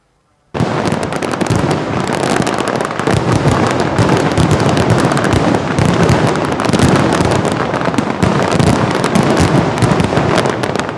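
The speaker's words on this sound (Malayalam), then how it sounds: "പൂരനഗരിയുടെ മാനത്ത് കരിമരുന്നിന്റെ വിസ്മയം തീർത്ത സാമ്പിൾ വെടിക്കെട്ട്" Loud, dense fireworks crackle and explode continuously in a rapid barrage at a temple festival, starting abruptly after a moment of silence.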